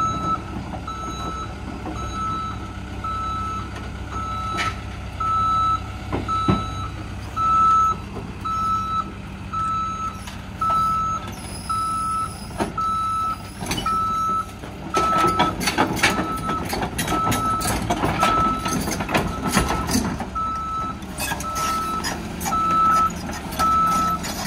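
A large land-clearing machine drives off a trailer. Its engine rumbles steadily under repeated high reversing beeps that pulse at a regular rhythm, and clanking and track noise grow louder toward the end.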